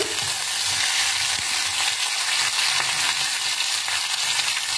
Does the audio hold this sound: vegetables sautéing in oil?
yes